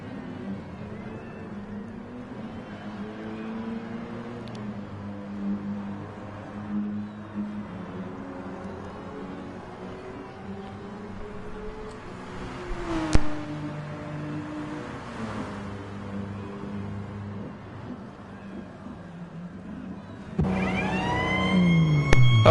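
Race cars in a racing video game enter the pits on a wet Spa circuit, their engines a steady layered drone with wavering pitch, a sharp crack midway and a louder rising whine near the end.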